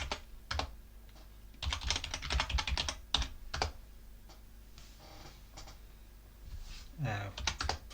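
Someone types a Linux install command on a computer keyboard: close, crisp clacking keystrokes in quick irregular bursts with short pauses between them.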